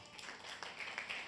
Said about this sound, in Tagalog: Palakpak naman yan.